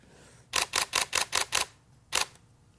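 A camera shutter fires in continuous high burst mode, six quick, evenly spaced clicks, a short pause, then one more click, close and crisp in a quiet room.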